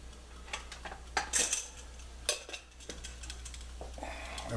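A spoon stirs and scrapes through hot potatoes with butter and cream in a pot, giving scattered clinks and scrapes of metal on cookware over a steady low background hum, with no talking.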